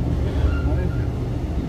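A passenger train in South Korea rolls steadily along with a dense low rumble and faint rattling, heard from inside the carriage and lasting under two seconds.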